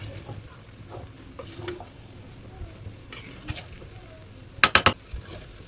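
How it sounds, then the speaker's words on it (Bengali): Chicken bhuna khichuri rice being stirred with ghee in a pot, with soft scraping and low background noise, then a short burst of three sharp utensil clinks near the end. "একটু নাড়াচাড়া করে ভাতটাকে মিশিয়ে নেব"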